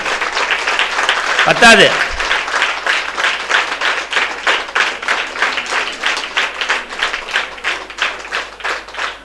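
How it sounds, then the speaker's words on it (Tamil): An audience gives strong applause for temple sculptor Karuppaiya Sthapathi at a Hindu temple consecration ceremony: a continuous wash of clapping that swells after a brief spoken word at the start and carries on steadily. "ஒரு பலத்த கைத்தட்டு கருப்பையா ஸ்தபதிக்கு கொடுக்கணும்"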